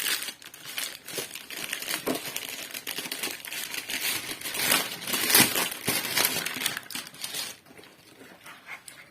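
Crinkling plastic wrap and packaging being handled while a gift box of mixed sweets is unwrapped, with dense rustling and crumpling up close, continuous for most of the stretch and fading near the end.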